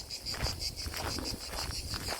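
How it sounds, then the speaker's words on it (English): Cicadas buzz among pine trees in a park in Tomar, Portugal, a steady pulsing high chirr repeating in even beats at moderate distance, with no voices. "and lots of cicadas."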